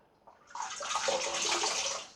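Tap water runs in a steady, moderately close hiss and splash as a cashmere shaving brush is wetted, swelling after a brief start and continuing evenly.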